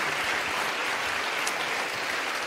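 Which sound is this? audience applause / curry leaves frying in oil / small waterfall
audience applause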